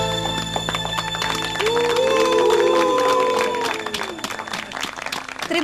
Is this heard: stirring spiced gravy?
no